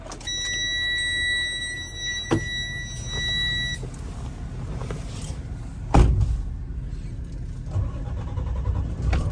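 Engine of a 2023 Verona 36VSB motorhome cranking and catching after a series of steady dashboard warning chimes, followed by a low, continuous idle rumble inside the cab.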